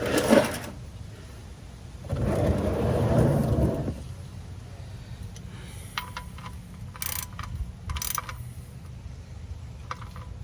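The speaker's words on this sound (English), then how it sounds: "now I'm going to tighten up the oil plug" Ratchet clicking as it tightens the oil drain plug on a 2017 Cadillac XT5, with short bursts of close mechanical ratcheting after some rustling and a louder scraping stretch early on.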